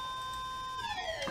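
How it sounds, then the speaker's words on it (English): An alarm siren blares steadily inside the Ever 17 video game, holding a sustained electronic tone and then beginning to wail and bend downward in pitch, loud and alone. "The alarm was still blaring."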